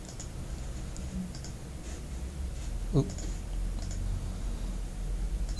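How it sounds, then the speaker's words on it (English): Light clicking of keys as text is typed on a computer keyboard, scattered soft taps against a quiet room hum, with one sharper, louder click near the middle. "So I'm just going to type in some text here"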